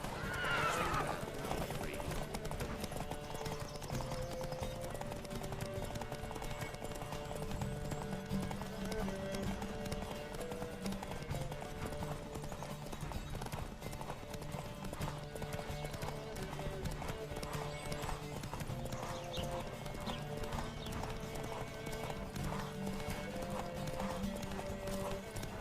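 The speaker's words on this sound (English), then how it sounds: "Don't spare the horse!" Horse race in the video game The Witcher 3: continuous galloping clip-clop of hooves with occasional horse neighs, set against steady game music throughout.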